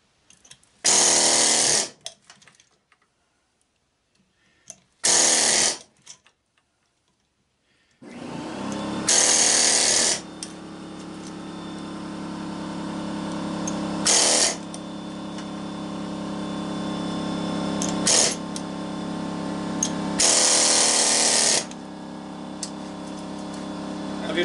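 An air chisel cutting at the aluminum of a push mower flywheel, loud rattling bursts that start and stop, with a long sustained run of hammering after a pause and brief gaps of quiet.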